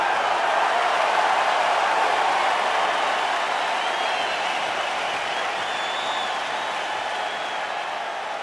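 A capacity arena crowd at a UFC lightweight championship fight roars and cheers in a steady, dense wash of distant voices and applause, sustained without a break.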